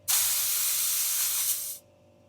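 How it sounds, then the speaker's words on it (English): A steady, close hiss of air released through a 3-way valve on a compressor-fed air up and down system, holding evenly for about two seconds before cutting off abruptly. "This 3-way valve, it's going to allow me to let air out while still keeping the compressor side hooked up in case I air out too much."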